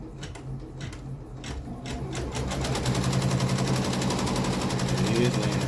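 A Janome MB4 embroidery machine runs an applique design on fabric, its rapid, steady needle chatter building and then holding loud and continuous throughout.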